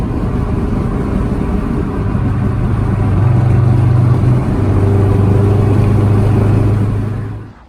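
Lexus LS400 sedan cruising on the road, a loud steady engine drone from inside with a low hum that shifts pitch as the car changes speed, then fades at the end, with no voices.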